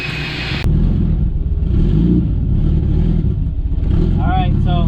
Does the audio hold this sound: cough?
no